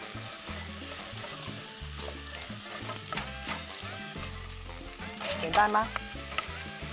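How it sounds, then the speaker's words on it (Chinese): Food being stir-fried in a wok with crushed rock sugar added, a continuous sizzle and scraping stir with clinks of the utensil, fairly close and loud, with a brief spoken question. "先把它炒一炒，然后马上冰糖碎冰糖下来"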